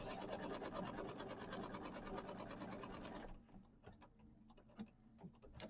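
Sewing machine quilting loops on a Kimberbell mini quilt, a fast steady needle chatter for a few seconds that stops abruptly, followed by quiet scattered clicks and light handling.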